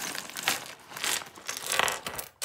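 Rummaging through a plastic bag of spare parts, fuses and odds and ends kept in a Fiat Panda, giving continuous close crinkling and rustling with small hard clicks, fairly quiet and with no talk.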